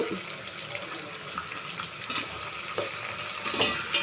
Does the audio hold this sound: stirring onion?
yes